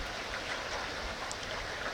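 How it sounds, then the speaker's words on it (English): Gentle rain falls steadily in a dense, even hiss, with no other sounds standing out and no voices. "With the rain, so calm, gentle, smooth, cold, warm, fresh"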